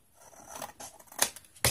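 Scissors cutting paper for a spiral-bound craft album, a few quiet snips building to two sharper, closer cuts near the end.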